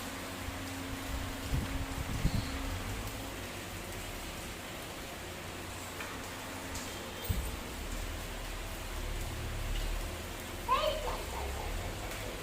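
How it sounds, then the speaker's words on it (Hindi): Heavy rain falls outside, a steady hiss of rainfall on surfaces that continues throughout, with faint low hums and a few brief knocks and rustles nearby. "और यहाँ पे देखिए हो रही है बाहर बहुत ज़ोर वाली बारिश, क्योंकि बहुत तेज़ हो रही है बारिश"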